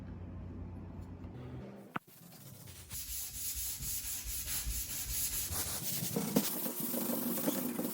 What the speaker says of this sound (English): I'm gonna give it a sanding.